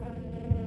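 Bees buzz briefly in Far Cry 5, a short close droning hum with a slight swell near the end.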